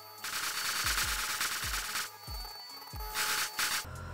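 Engineer Cameraman tower in Roblox Toilet Tower Defense firing explosive shots: a series of punchy booming blasts, roughly eight in quick irregular succession, over bursts of loud rasping noise.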